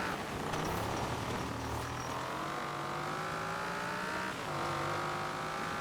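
A big, heavy Cadillac Escalade accelerates off-road over snowy ground in Forza Horizon 4, its engine note rising steadily and holding a loud, continuous drone with a brief dip and renewed climb near the end.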